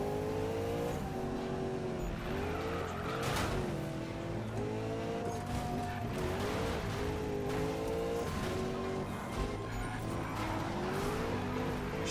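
Engine revving and tire squeal from a Ford Mustang drifting in Need for Speed, with a steady, loud, droning engine whine rising and falling continuously throughout as the car slides through a drift event.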